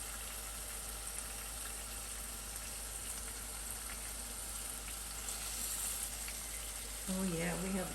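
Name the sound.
filet mignon searing in a pan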